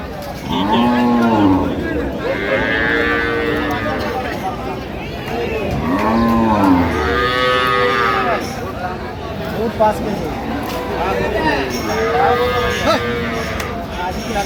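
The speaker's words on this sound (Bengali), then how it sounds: "গাভী বাছুর আমরা দেখছিলাম এখানে" Cows and calves moo repeatedly at a busy rural cattle market, several loud drawn-out calls close by, with people talking and bargaining in the background.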